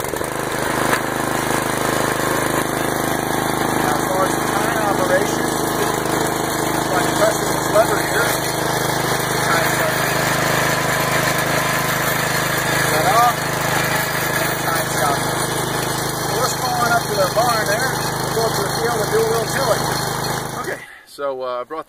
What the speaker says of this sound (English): let me go ahead and fire this one up